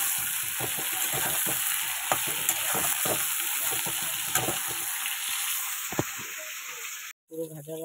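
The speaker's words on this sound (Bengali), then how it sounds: "এবার আলু আর বেগুনটা ভেজে নেবো" Potato and eggplant pieces frying in oil, sizzling loudly and close while a spatula scrapes and stirs in quick repeated strokes, ending with a short pause and a clink.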